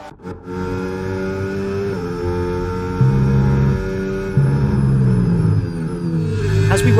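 A Ferrari Formula 1 car heard onboard, its engine a loud, close, high-revving whine climbing through the gears with abrupt pitch drops at each shift, steady and alone.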